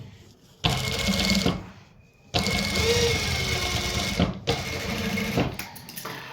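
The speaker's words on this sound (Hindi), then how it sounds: "ये ज्वाइंट डालने के बाद आपने इस ज्वाइंट के ऊपर स्टिचिंग भी करनी होगी इस तरह से।" Sewing machine stitching over a fabric joint, two loud close bursts of rapid mechanical whirring with a short pause between them.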